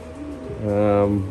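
Pigeons in a loft give a brief, close, low coo that swells and fades.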